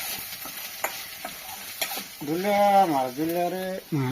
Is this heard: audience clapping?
no